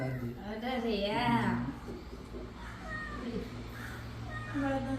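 A small kitten gives several short, rising meows spaced across the moment while people chat nearby, its thin cries poking up between the voices.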